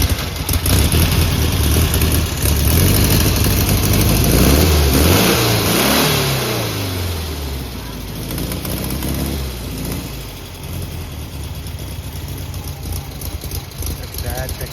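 Vintage car engine in Goa revving hard up close, then easing toward a rougher idle, with people talking nearby under the engine noise.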